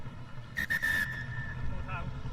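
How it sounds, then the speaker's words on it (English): Referee's whistle blowing full time at an Asia Rugby Sevens match in Sri Lanka, Japan against Hong Kong China: a short shrill blast rising over steady crowd and stadium noise, with a brief second tone after. "So that's the final whistle blown."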